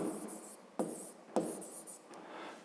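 Pen writing by hand on paper while working a fifth-grade maths exercise: a steady, quiet scratching with faint strokes and two sharper taps, close and soft, with no voices.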